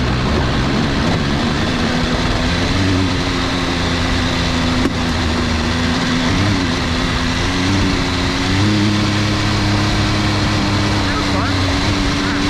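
An MV Agusta Enduro Veloce motorcycle climbs an off-road hill, its engine droning loud and steady with a rising, wavering pitch as the rear wheel spins, wind rush heavy throughout.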